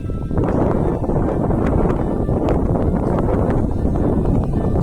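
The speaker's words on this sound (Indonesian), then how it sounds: "Angin bertiup kencang" Strong wind buffets a hilltop, a steady loud roar with gusty rumble and rustle that fills the whole stretch without a break.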